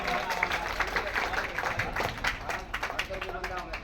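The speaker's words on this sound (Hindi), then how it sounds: "एक बार जोरदार ताली बजाकर आप" Audience clapping at a Ganesh festival program, a lively burst of hand claps from a crowd with uneven rhythm, mixed with voices and background murmur throughout.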